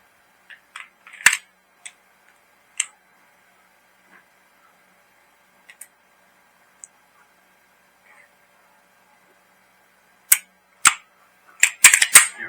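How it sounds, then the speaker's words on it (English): Reassembly of a Springfield Prodigy pistol, sparse sharp metallic clicks and snaps of parts sliding and locking together, close and crisp with silent gaps, ending in a cluster of quick clacks. "now we're going to put the gun back together."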